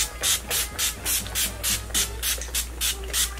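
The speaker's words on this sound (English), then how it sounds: "I'm gonna set my face with Urban Decay's All Nighter setting spray." Setting spray misted onto a face in repeated short bursts, about a dozen quick hissing pumps in a steady rhythm, close and fairly loud.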